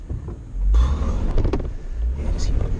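A Jeep TJ on 35-inch tires grinds uphill off-road, its engine rumbling loudly nearby under intermittent talk.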